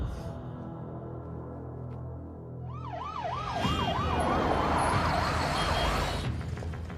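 An ambulance siren wails in a fast rising-and-falling pattern, growing louder as it approaches over traffic noise, then cuts off.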